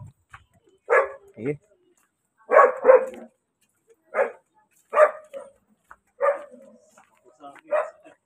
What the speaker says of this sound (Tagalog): Uy, may aso man.